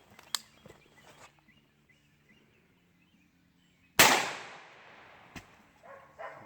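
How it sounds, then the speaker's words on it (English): A single sharp rifle shot from a 300 AAC Blackout firing subsonic rounds at a watermelon outdoors cracks loudly and decays into a short echoing tail, with faint bird calls and small clicks around it. "We're going to shoot the watermelon, and we'll see if we can do a big difference in the Supersonic compared to the Subsonic."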